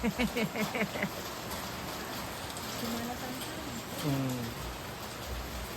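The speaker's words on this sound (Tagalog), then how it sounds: "Lakas ng ulan, guys." Steady, loud rain hiss fills the scene, with voices talking over it at the start and a few brief vocal sounds later.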